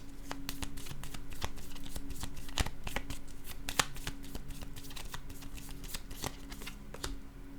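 Rapid crisp card handling during a card game, a dense run of papery flicks and snaps close by, quiet but steady for several seconds, with no voices.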